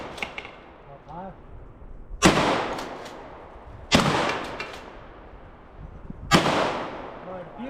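Shotgun shots at clay targets outdoors: three loud, sharp blasts about two seconds apart, each with a ringing decay, amid quiet background and faint voices between shots.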